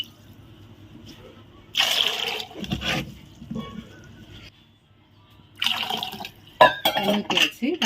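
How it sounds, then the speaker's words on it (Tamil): Water is poured into a pressure cooker holding soaked pulses, coming in two separate splashing, gurgling bursts in a quiet kitchen. "தண்ணி ஊற்றி"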